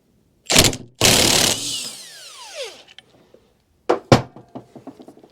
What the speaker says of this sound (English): an impact to get the nut off